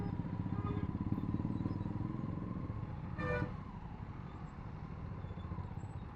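An Aprilia RS 457 motorcycle rides through traffic with a steady low engine drone, rumbling evenly throughout while a car horn toots briefly in the middle and wind noise hangs over the ride.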